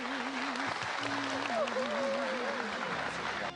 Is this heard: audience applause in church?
yes